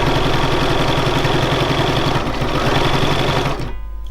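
A Bernina 475QE sewing machine stitches free machine embroidery in zigzag, a loud, close, steady rapid whirr with rhythmic needle chatter that drops away at the very end.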